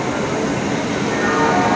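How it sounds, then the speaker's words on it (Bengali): Steady rumble and rattle inside a moving local train on the Howrah–Bardhaman line, a continuous close, loud wash of carriage noise with no clear talk over it. "আমি তো ট্রেনে উঠে পড়েছি"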